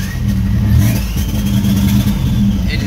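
A car engine fitted with a newly installed Microsquirt ECU revs hard toward redline, a loud, close, sustained mid-pitched roar that climbs and holds with slight wavering, no talk over it.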